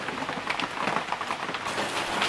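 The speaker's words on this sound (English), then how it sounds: "that rain is so loud" Heavy rain pours down and drums hard on surfaces nearby, a loud, dense, unbroken patter with no voices over it.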